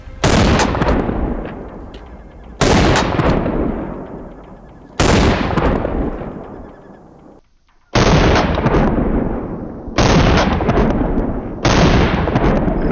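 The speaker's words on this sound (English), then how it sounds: "And I'm simply going to control the recoil as I always do with shotguns, and we'll see which one is more pleasant to fire." Six loud, close shotgun blasts from a Beretta 1301 and a second shotgun fired for a recoil comparison, spaced about two to three seconds apart, each followed by a long fading echo.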